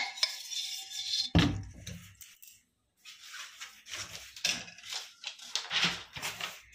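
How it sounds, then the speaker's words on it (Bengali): Oil being rubbed around the inside of a metal pressure cooker for a fruit cake, giving intermittent close scraping, clinks and handling knocks with a brief quiet pause midway. "আমি একটা প্রেশার কুকার নিয়েছি, একটু তেল মাখিয়ে নিচ্ছি প্রেশার কুকারটার মধ্যে"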